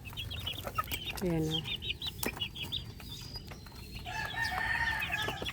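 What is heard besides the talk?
chicks from the brooder peeping and clucking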